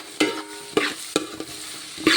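Masala for Kottayam-style beef varattiyathu frying in a pan, with a low sizzle broken by four or five sharp scraping strokes of a spoon stirring, close and fairly quiet, no talk.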